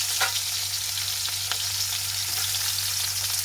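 Chopped onions fry in hot oil with a steady, close sizzle and a few crisp stirring clicks, continuous and without speech.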